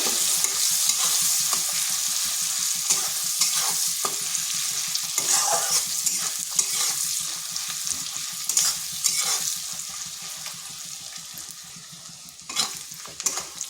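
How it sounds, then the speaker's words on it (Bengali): Onion sizzling in hot oil with cardamom pods, cinnamon pieces and a bay leaf, stirred in a pan with steady close crackle and frequent utensil scrapes; no talking. "এরপর পেঁয়াজটা একটু ভাজা ভাজা করে নেব"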